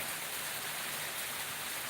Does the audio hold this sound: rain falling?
yes